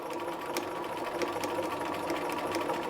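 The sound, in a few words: sewing machine stitching a garment hem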